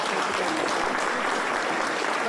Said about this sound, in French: ça part dans les tuyaux sous les applaudissements qu'on entend